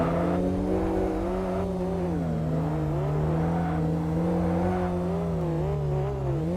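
In the Kaido Racer video game, a Lancer Evo engine drones steadily under racing load. The pitch rises and dips gently as the throttle shifts, and the sound stays continuous and prominent throughout, with no talk.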